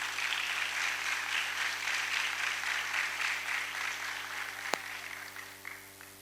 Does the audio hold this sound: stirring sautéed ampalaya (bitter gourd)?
no